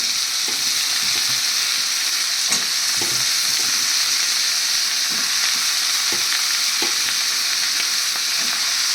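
Pointed gourd and potato pieces frying in a little oil with lightly fried moong dal, a steady, close sizzle running throughout with occasional soft stirring clicks and scrapes, no voices.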